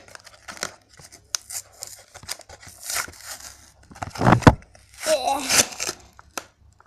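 Cardboard and plastic packaging of a My Little Pony toy being torn open, with bursts of ripping and crinkling, near and moderately loud, between brief pauses.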